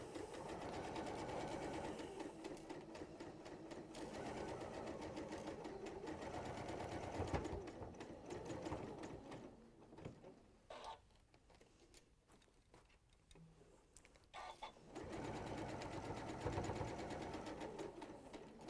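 A sewing machine fitted with a walking foot runs steadily through a seam at 3/8-inch allowance, a loud continuous whirring drive that pauses and slows midway before resuming at full speed.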